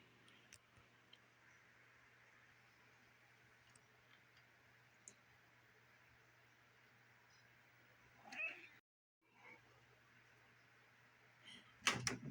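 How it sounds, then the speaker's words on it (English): A house cat meows twice, faint and a few metres off, in a quiet indoor room with a low steady hum and occasional small ticks. "Sorry about the kitty cat, my Momo."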